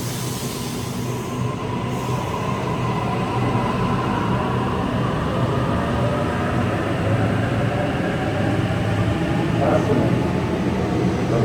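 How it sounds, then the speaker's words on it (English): A Sydney train pulls away from Campsie station on the Bankstown line, a steady loud rumble of wheels and motors with a faint squeal, while someone talks nearby. "Let's wait for this train to depart"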